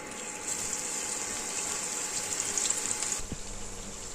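Pakoras of jackfruit in a batter with soy sauce frying in hot oil, a steady broad hiss and crackle that runs throughout at moderate loudness, easing slightly near the end.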